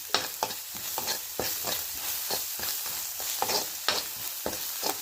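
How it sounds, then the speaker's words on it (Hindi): Coriander powder, chili, salt and turmeric frying in a pan, a close sizzle broken by frequent rhythmic scraping strokes of a spoon stirring the spices, with no talking. "इसको मसाले को अच्छे से भून लेंगे।"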